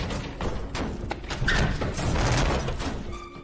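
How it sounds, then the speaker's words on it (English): A room window rattles and slams shut loudly: a few heavy knocks and thuds over a dull, rumbling background. "Then suddenly the window in the room rang and closed very loudly."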